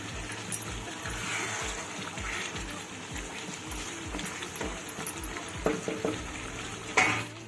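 Chicken posto with cashew paste being stirred in a pan, a steady sizzling frying bed with soft repeated scraping and a few brief louder clinks near the end, no talking.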